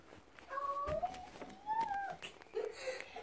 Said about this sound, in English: I just heard cute kitties.